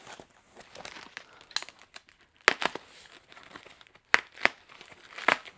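Packaging tape being peeled and torn off a shipping box during the unboxing of a Modular Driven Technologies ESS chassis, heard as crinkly crackling rips in several bursts, loud and close, with quieter rustling between them.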